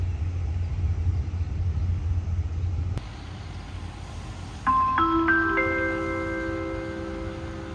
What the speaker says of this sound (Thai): โปรดทราบขบวนรถที่กำลังเข้าสู่สถานีสุราษฎร์ธานีเป็นขบวนรถด่วนเลขที่ 85